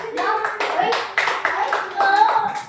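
Children in a fifth-grade classroom give a rhythmic patterned clap in short bursts, close and lively, mixed with young voices talking.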